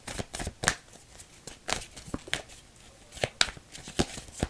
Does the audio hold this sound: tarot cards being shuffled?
yes